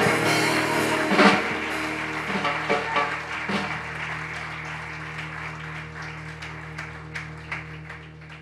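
Crowd applauding at an African Nubian kingdoms throne proclamation ceremony, a sustained wash of clapping that swells early then thins into scattered claps, with music or a low hum underneath.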